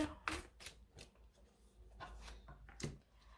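Tarot cards are handled on a table during a reading, giving soft, close flicks, slides and light taps at an irregular pace, with quiet gaps between them.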